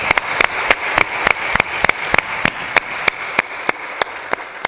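Applause from the audience at a Hindi religious discourse in Badnawar, with sharp, loud claps cutting through in an irregular rhythm over a steady wash of hand clapping.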